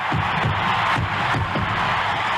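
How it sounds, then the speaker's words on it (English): A sellout stadium crowd roars for Hank Aaron's home run, a dense continuous wall of cheering and shouting from thousands of fans, loud and sustained throughout with no single voice standing out. "A sellout crowd is cheering Henry Aaron, the home run king of all time"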